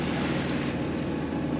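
Steady, unbroken drone of a sailboat's engine running at sea in calm conditions, mixed with wind rush and water noise, constant and close with no pauses.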